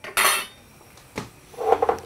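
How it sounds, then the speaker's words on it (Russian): Chopped onion tossed into a hot frying pan over high heat while cooking a turkey bolognese: a brief clatter of pan and utensils, a quieter stretch, then a close burst of sizzling with small metallic knocks. "Лук в сковородку, сильный огонь."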